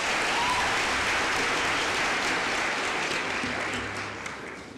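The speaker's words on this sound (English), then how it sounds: "Please give them a very warm round of applause." A large crowd at a May 2023 university graduation ceremony gives the Fort Hare Choir a warm, sustained round of applause, a dense roar of clapping that holds steady and then begins to fade near the end.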